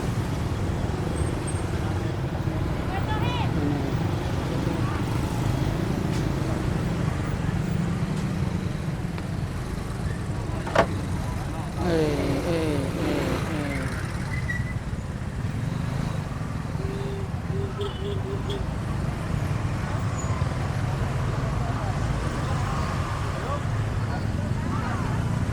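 Dense traffic crawls along a narrow road near Pasar Kuto market in Palembang before Eid. It makes a continuous rumble of cars and motorcycles with occasional horn toots, and a person talks over it.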